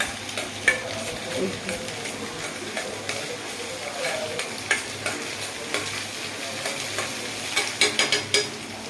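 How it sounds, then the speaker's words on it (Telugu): Eggs frying in a hot pan for egg fried rice, giving a steady close sizzle with frequent light ticks and scrapes from stirring and a cluster of sharper clicks near the end. "పక్క గుడ్లు ఫ్రై అవుతుంది"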